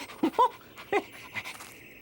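A small green dog pants in quick, breathy bursts with soft wet licking noises, a few short close puffs spaced through a quiet moment with no talking.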